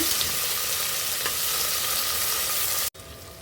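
Onions and tomato fry briskly in a pan for a chicken biryani, a loud, steady hissing sizzle with faint stirring scrapes that cuts off abruptly near the end.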